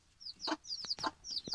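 A hen clucks beside a bantam rooster in a backyard poultry yard, giving several short, close clucks and squawks in an irregular rhythm, with brief pauses and no talking.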